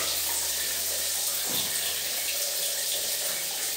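Water runs continuously from a shower in a Mexican motel room, a steady hiss of spray, fairly faint and even throughout with no voices.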